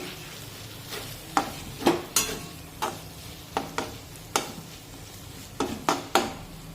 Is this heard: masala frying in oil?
yes